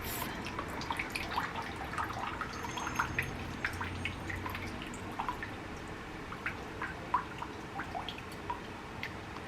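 Excess water drips from houseplant roots after watering, a soft, irregular patter of small drops that continues steadily throughout, close by and quiet, with no speech.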